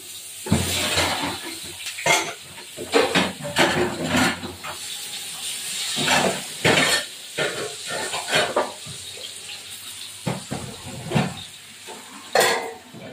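Potatoes fry in hot oil with a continuous hiss and sizzle, broken by irregular bursts of spattering and the clatter of a utensil moving them around the pan.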